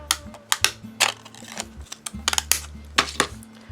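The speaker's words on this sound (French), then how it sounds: "je change mes ciseaux de position, je les retourne, et que je découpe ici" Decorative paper-craft scissors snip through card paper for a 3D box card, a run of crisp, irregular clicks and cuts, close and fairly quiet over a low hum.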